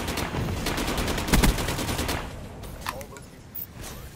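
Bursts of automatic fire from an RPK Nuclear machine gun in a first-person shooter video game, a rapid rattle loudest early on then fading into scattered shots, with players' voices mixed underneath.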